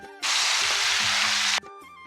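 Masala paste hitting hot butter in a wok gives a sudden loud sizzle that holds steady for over a second, then cuts out abruptly; no talk is heard.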